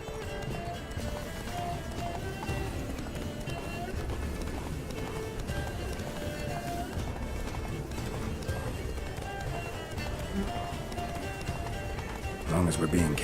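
Geralt's horse Roach gallops in The Witcher 3, a steady drumming of hooves running under continuous game music and ambience, with people talking throughout and a louder burst near the end.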